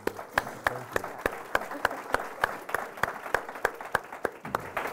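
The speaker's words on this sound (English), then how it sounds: "Give them a round of applause," Scattered applause from a small group, individual claps sharp and evenly spaced, with faint murmuring underneath.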